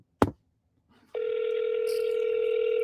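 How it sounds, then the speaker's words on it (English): After a sharp click, a telephone begins ringing, a steady, fairly faint electronic tone that holds without a break to the end. "Can you guys hear the phone?"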